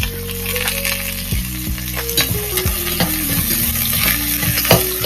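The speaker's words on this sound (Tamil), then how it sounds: "இப்போ வெங்காயம், பச்சை மிளகாய் போட்டு கருவேப்பிலை போட்டு வதக்கலாம்" Onion, green chili and curry leaves sauté in hot oil for biryani-style upma, a steady close sizzle with stirring scrapes and occasional clinks of the spoon against the pan.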